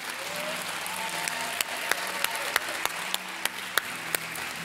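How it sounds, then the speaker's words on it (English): Scattered clapping in a church service, with a few sharp, distinct claps standing out over a low murmur, moderately loud and fairly close. "Give them a big round of applause."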